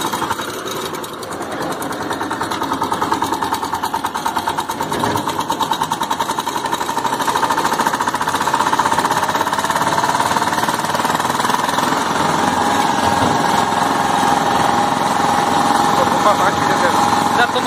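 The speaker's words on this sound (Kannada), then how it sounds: "ಥರ್ಡ್ ಗೇರ್ ಹಾಕಿದ್ರೆ ಸ್ವಲ್ಪ ಫಾಸ್ಟ್ ಜಾಸ್ತಿ ಇರುತ್ತೆ ಟಿಲ್ಲರ್ದು" VST power tiller engine running in third gear, a loud steady mechanical drone with rapid knocking pulses that continues without break, close to the listener, with some speech over it.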